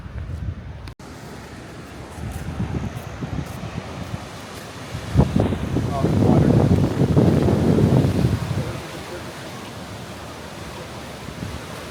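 Wind and surf at Bondi Beach, Sydney, make a continuous broadband rush that swells into a louder gust midway, then settles back to a steady roar.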